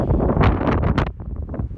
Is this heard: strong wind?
yes